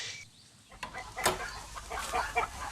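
Hens in a calm laying area cluck in short, scattered bursts, with a few louder calls standing out against a quiet background.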